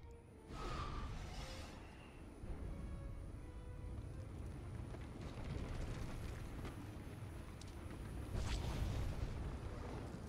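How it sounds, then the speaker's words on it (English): Big explosion in the Star Wars The Old Republic game, a sustained loud rumbling roar lasting several seconds with a swell of noise near the end, set over continuous game ambience. "Big ass explosion"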